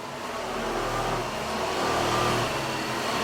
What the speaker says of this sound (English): Sounds like the fan is like oscillating.